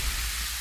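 Steady fizzing hiss of freshly poured Pepsi Zero Sugar cola, a continuous carbonated crackle heard close and alone for under a second.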